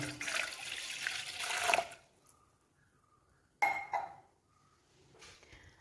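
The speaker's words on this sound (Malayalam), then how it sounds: "ഞാൻ ഇതിലേക്ക് ഒരു ഗ്ലാസ് വെള്ളം ഒഴിച്ചു കൊടുക്കുന്നുണ്ട് കേട്ടോ" A glass of water pours into an old teapot in a loud, splashing stream for about two seconds, followed by quiet, then a brief second splash and a faint trickle.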